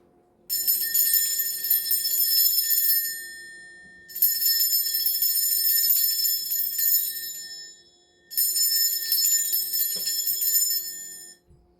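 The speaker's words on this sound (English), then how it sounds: "I'm going to ring a bell." Three long, bright bell tones ring out one after another, each sustained for several seconds and fading before the next strike, clear and close with no talking.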